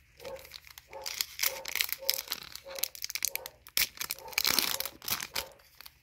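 Four trading card packs are torn open and handled, with bursts of close crinkling and tearing foil wrappers in an uneven rhythm and a voice speaking between them.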